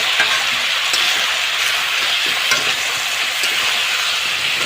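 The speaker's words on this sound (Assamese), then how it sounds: "আৰু এতিয়া মই মাংসখিনিত আলু দি দিলোঁ। তো আকৌ ফ্ৰাই কৰি থাকিব লাগিব।" Broiler chicken pieces and potatoes fry in a pan with a loud, steady sizzle, broken by faint scraping stirs now and then, close up and with no voices.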